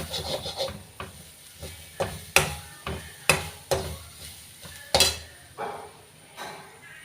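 Mushroom curry ingredients are stirred and fried in a pan. A utensil scrapes in a steady series of short rubbing strokes roughly every half second, over a faint sizzle, close and fairly quiet.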